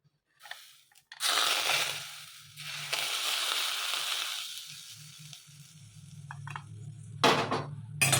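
Nippattu dough being mixed by hand in a bowl after hot oil is added, with crumbly rubbing and crushing sounds that swell and fade, close and fairly quiet, with a few clinks near the end.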